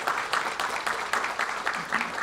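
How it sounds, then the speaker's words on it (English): Brief, fairly faint audience applause for an event sponsor at a nonprofit summit, scattered claps forming a soft steady patter. "Give them a big round of applause"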